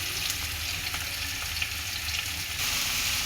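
Onion, garlic and tomato with salt and turmeric frying in a pan for an egg dish, a brief steady sizzle with stirring, close and even, no speech.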